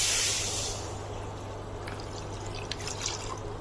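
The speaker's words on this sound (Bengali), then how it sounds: "আমি 1/2 লিটার দুধ ঢেলে দিচ্ছি।" Half a litre of milk poured into a pot for an Iranian dessert, a soft steady liquid pour with faint splashing and dripping near the start, fading into a quieter trickle over a low kitchen hum.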